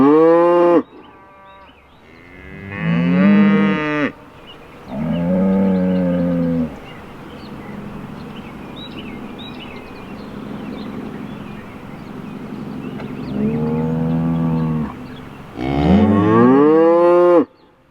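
Cows on a farm moo repeatedly, long loud drawn-out calls close by, several overlapping in a series with brief pauses between them and no talking.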